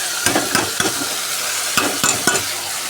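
Lentils fry in hot oil for dal chorchori and are stirred with a spatula, a steady sizzle with repeated quick scraping strokes in two bursts, loud and close with no talking.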